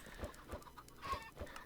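Chickens in the Minecraft modpack Sky Factory 3 give a quick series of soft, rhythmic clucks, several short bursts spaced evenly in a quiet game scene.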